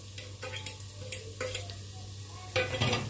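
A spoon stirs ginger-garlic paste into a frying pot for chicken khichdi, with repeated scraping strokes over a steady sizzle, close and fairly loud, and no speech.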